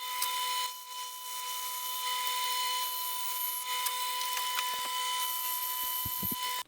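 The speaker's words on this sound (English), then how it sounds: "And now I'll cut out the remaining 3 on the bandsaw." A bandsaw cuts through 3x2 timber pieces for a garden obelisk, giving a steady, loud broadband whine with a constant tonal hum that runs almost the whole time before cutting off with a few clunks at the end.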